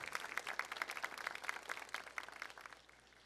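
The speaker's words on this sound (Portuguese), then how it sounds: "Vamos aplaudir a santa palavra de Deus" A church congregation claps for the word of God at a worship service, with faint, steady, fairly distant applause that tapers toward the end.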